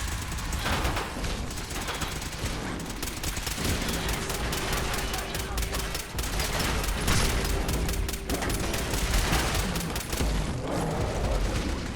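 Gunfire against robots in Fallout 4, rapid bursts of automatic shots with booming impacts and steady rattling fire throughout, close and loud.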